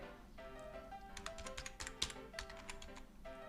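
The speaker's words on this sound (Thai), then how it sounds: "อ่ะโหอาจจะพิมพ์ช้าไปหน่อยนะบางทีก็พิมพ์ไม่ถูกเลย" Fast, light clicks of a computer keyboard rattle along during a Roblox game, fairly faint, over a steady tonal game-music background.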